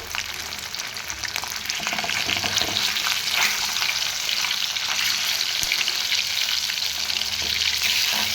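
Fish frying in hot oil for a homestyle fish curry, a dense, continuous crackling sizzle that holds steady and close throughout with no talking.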